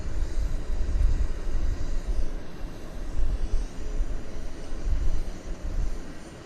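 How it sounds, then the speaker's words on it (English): Air Canada flight 184 departs Vancouver for Toronto, its engines producing a low, distant, rumbling roar that rises and falls steadily throughout. "Headed to Toronto is the Air Canada 184."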